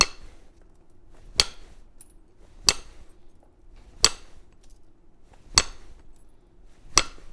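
Flintknapping a large rainbow obsidian blade with a hammer: five sharp, ringing strikes spaced about one and a half seconds apart, crisp and close, with quiet scraping between them.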